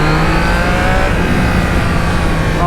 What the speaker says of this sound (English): This triple just sounds amazing.